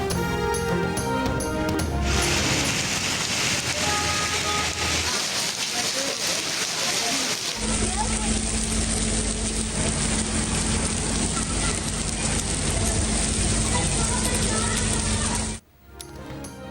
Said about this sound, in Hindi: कराची में ओले पड़ गए